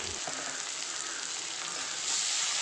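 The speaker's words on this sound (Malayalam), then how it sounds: "കുറച്ച് ഉപ്പ് കൂടി ചേർത്ത് നമുക്ക് വഴറ്റിയെടുക്കാം." Onion, garlic, ginger, green chilli and curry leaves with a little salt sauté in hot oil as the base for a prawn biryani, a constant close sizzle that swells slightly louder toward the end.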